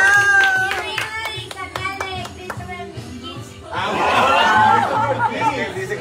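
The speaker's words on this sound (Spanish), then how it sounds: "¡Aplauso!" A few people clap in short, sharp bursts at home with Santa visiting, between bits of talk. Chatter and light laughter then swell into a busier stretch of voices.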